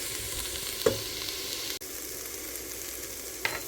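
Split pea soup base browning in a pot gives a steady, soft sizzle and frying hiss throughout, with a couple of light stirring knocks, no voices.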